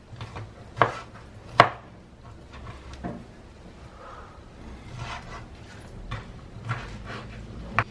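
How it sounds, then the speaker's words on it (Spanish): Knife chopping pork chop into small cubes on a board for a Dominican locrio, a few sharp, loud chops spaced irregularly over quieter cutting and handling noise, no talk. "Lo primero que voy a hacer es picar la chuleta. Vamos a picarla en cuadrito."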